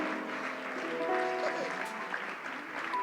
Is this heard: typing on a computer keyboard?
no